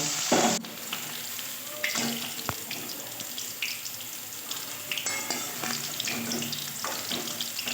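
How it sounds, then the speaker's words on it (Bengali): Potato and bitter gourd pieces fry in a pan in a home kitchen, a steady sizzle with stirring scrapes and clatters running throughout and no voices. "ভালো করে লাল লাল করে আলু উচ্ছেটা ভেজে নিলাম"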